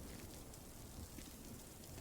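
Rain falling in a video game world, a steady, soft wash of patter and hiss with no breaks.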